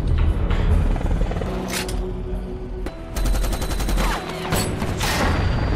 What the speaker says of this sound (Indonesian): Sontak hal tersebut menyulut kemarahan Swagger dan berhasil menembak jatuh heli tersebut.